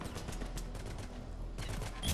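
Gunfire in the video game Mass Effect 3 on insanity difficulty: a faint, steady rattle of distant shots and fusillade noise runs throughout, with a brief lull before picking up again.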